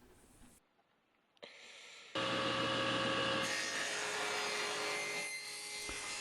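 A hand plane works a wooden test piece, making a steady, close rasping shave that starts after a short pause and then runs continuously and fairly loud.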